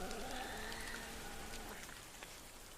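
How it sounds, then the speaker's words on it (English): Steady rain pours down over a forest, a dense even hiss of falling drops that holds at moderate loudness throughout with no voices. "Then the rain came. For days and nights it poured down over the forest"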